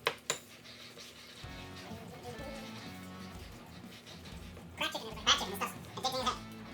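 A utensil whisks and tosses keto buffalo chicken dip in a bowl, giving sharp clinks at the start and a bright scraping, clattering burst near the end, with a person talking in between.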